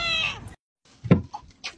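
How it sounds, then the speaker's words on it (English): A cat meows once, close and clear, then after a brief pause gives a few softer, shorter chirps and mews alone. "You meow."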